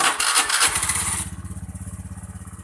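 A Honda Beat automatic scooter engine cranks briefly with a burst of whirring, then catches and settles into a steady, close, rhythmic idle putter that continues to the end.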